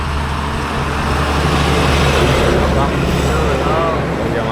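Steady roar of vehicles passing on an industrial highway in the morning, a continuous broad rumble of engines and tyres without clear breaks.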